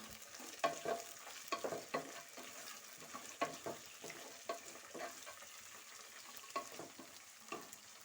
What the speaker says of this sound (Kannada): ಎಲ್ಲ ಸೇರಿಸಿ ಚೆನ್ನಾಗಿ ಫ್ರೈ ಮಾಡ್ಕೊಳ್ಳೋಣ.